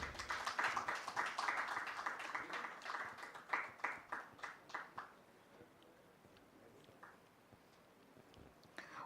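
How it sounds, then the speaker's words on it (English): Audience applause at the Business Standard Infrastructure Summit 2025 rings out in a hall as a guest is invited on stage. The clapping is fairly loud at first, then thins and fades away after about five seconds. "Please give a big round of applause."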